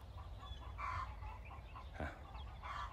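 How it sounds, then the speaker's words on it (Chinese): Several chickens clucking intermittently near a vegetable garden and greenhouse over a low rumbling background, soft and a little distant, with short bursts of cackling. "看一会儿就是鸡咯咯哒哒的叫"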